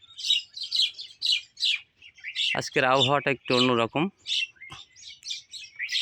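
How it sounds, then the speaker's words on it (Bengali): Birds chirping on a foggy winter morning in a village, repeated short tweets and calls near and far throughout, with a person speaking briefly in the middle. "শীতের সকালে পাখিদের কোলাহলের ভিতরে"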